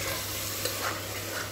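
Mutton sautés in a paste of onion, cashew and green chilli inside a cooker for Hyderabadi mutton biryani, giving a dense, even, continuous sizzle at close range with no clear breaks. There is no speech.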